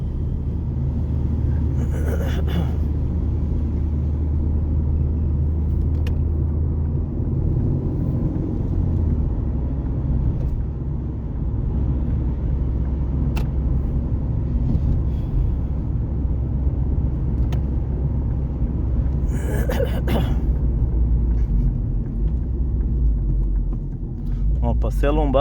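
A Ford Focus fitted with two throttle bodies cruises on the street in third gear at about 2000 rpm with light throttle, its engine a steady low drone throughout while someone talks over it.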